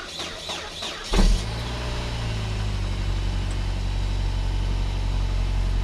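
A Saab 9-5 Aero engine, unused for about a week, cranks briefly on a cold start and catches, then settles into a steady, low idle that carries on alone.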